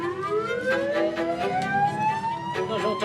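An ambulance siren wails with a rising, sweeping tone over passing traffic, fairly loud and close, with some voices faintly underneath.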